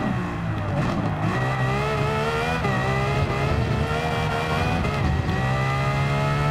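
A Lamborghini Veneno hypercar engine roars in Gran Turismo 7, a loud sustained drone whose pitch climbs and drops with gear shifts, close and steady throughout with no talk.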